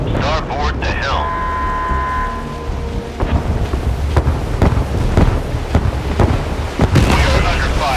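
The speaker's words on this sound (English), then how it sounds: "We are under fire." Naval gunfire in the warship battle game Force of Warships: repeated deep booming blasts and crackling impacts over a constant low rumble, with voices speaking under the barrage.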